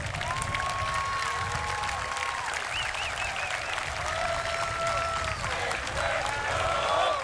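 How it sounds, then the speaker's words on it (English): Sustained crowd applause at an Armed Forces Day parade in Torrance, California, steady clapping from a large outdoor audience filling the whole stretch, with a few tonal whistles or calls above it. "Ladies and gentlemen, another round of applause"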